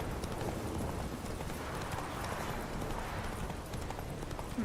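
Horse hooves clip-clop at a steady riding pace in The Witcher 3 video game, a soft continuous trotting rhythm under a dull ambient background.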